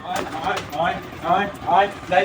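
Domestic pigeons coo close by in a series of soft, rolling, repeated calls, roughly every half second, over a quiet background with a voice faintly present.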